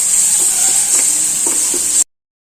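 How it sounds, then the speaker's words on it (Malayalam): Cooked prawns stirred into an onion and tomato masala in a hot pan for chemmeen roast, with a steady bright sizzle and a few soft stirring scrapes, loud and close, cutting off abruptly after two seconds. "നമുക്ക് ഈ ഉള്ളി മസാലയുമായിട്ട് നമ്മുടെ കൊഞ്ചൊന്ന് മിക്സ് ചെയ്ത് കൊടുക്കാം"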